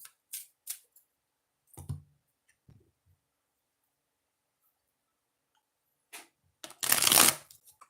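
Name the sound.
tarot cards being shuffled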